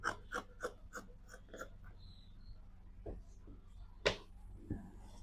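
Scissors cutting Ankara fabric, a quick series of about six crisp snips at the start followed by a few scattered, quieter cuts and rustles, close and soft.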